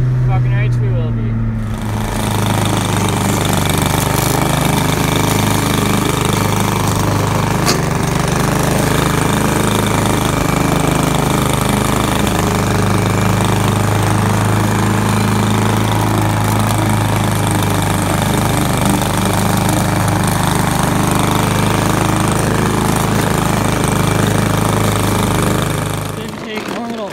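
A lawnmower engine runs steadily and loudly nearby with a constant rough, droning rumble for the whole stretch, starting abruptly after a brief quiet moment.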